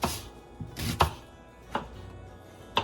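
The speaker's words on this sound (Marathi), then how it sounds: "ते उभे चिरून घेतेय." A kitchen knife slices medium-sized onions lengthwise on a board, giving a few crisp, close chops at an uneven pace.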